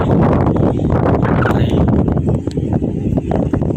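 Strong wind of about 22 knots buffets the microphone during a tanker's docking at sea, a loud continuous roar with gusty rumble and a voice talking over it.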